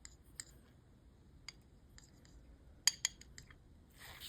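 Scissors snipping through a piece of molding gel while shaping a 3D flower, a few crisp close clicks and snips, the loudest pair near the end, in an otherwise quiet room.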